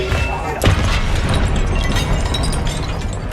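A Confringo spell explodes in the Hogwarts Legacy video game, a single loud blast about half a second in, set within dense, continuous game noise and battle effects.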